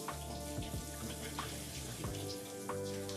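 A steady low-pressure spray of water runs continuously while a dog is bathed, a close, even hiss with faint splashing and dripping textures throughout.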